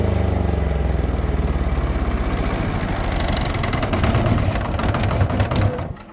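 A Toyohama TYDi-13000i diesel silent inverter generator hums steadily nearby, then its engine note changes and winds down as it is switched off, fading out at the end.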